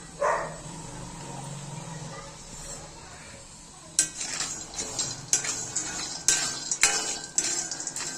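Walnuts and cardamom are stir-roasted in a pan over a low gas flame. A quiet start gives way to repeated close metallic scrapes and clinks of a utensil against the pan.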